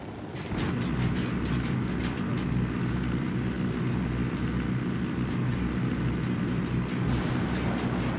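An enemy helicopter approaching in a video game set in Bolivia, heard as a steady, loud rotor and engine drone that holds at an even level throughout, with no talk.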